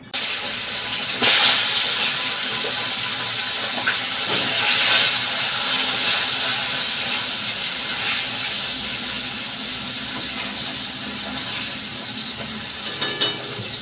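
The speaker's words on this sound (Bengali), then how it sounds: "মাছটা এবার কড়া করে ভেজে দেবো, খুব কড়া করে ভাজবো না বন্ধুরা" Fish frying in hot oil for a fish curry with potato and cauliflower gives off a steady, broad sizzling hiss, constant and close, with a few brief louder spatters.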